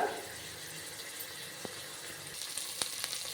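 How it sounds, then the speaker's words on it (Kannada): Coriander and mint frying in a pan for moong dal khichdi, a faint steady sizzle and hiss with a few soft clicks and taps, no one speaking. "ಇದಕ್ಕೆ ಇವಾಗ ಕೊತ್ತಂಬರಿ ಪುದೀನ ಹಾಕ್ಕೊಳ್ಳೋಣ. ಇದನ್ನು ಇವಾಗ ನೀಟಾಗಿ ಫ್ರೈ ಮಾಡ್ಕೊಳ್ಳೋಣ."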